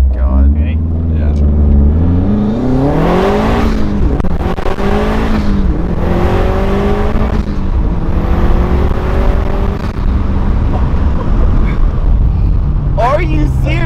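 Widebody Subaru STI accelerating hard through the gears, its engine note rising and shifting in repeated sweeps, loud and close, with people talking over it.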